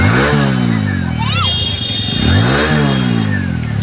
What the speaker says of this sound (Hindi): ये देखिए डुग्गू बाइक चलाने लग गया